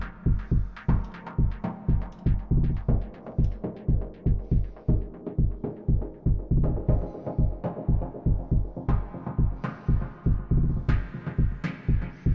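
A pulsing synth bass throbs in a steady rhythm, its tone sweeping brighter and darker as the filter is modulated, with no voices.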